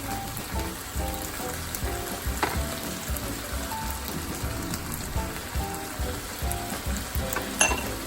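Vegetables stir-frying in a pan with soya and chili sauce: a steady close sizzle with occasional stirring scrapes, continuous and even.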